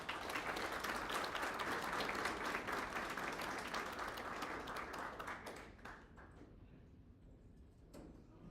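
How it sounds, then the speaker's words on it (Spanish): An audience at a high school rose ceremony applauds, a dense wash of clapping that stays strong for several seconds, then thins out and fades to scattered claps. "Démosle un aplauso."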